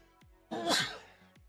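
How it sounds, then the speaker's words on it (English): A single sneeze bursts out close to the microphone, a sharp, breathy blast lasting about half a second amid near silence, with small breaths just before and after. "I gotta sneeze again."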